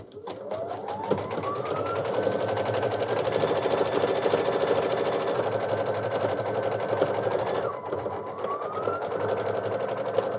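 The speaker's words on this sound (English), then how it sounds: "And the machine will just stitch that out" An embroidery machine stitches out lettering for a Kimberbell Easter mug rug, producing a fast, even mechanical chatter with a whining motor tone that rises and shifts as the needle moves across the design.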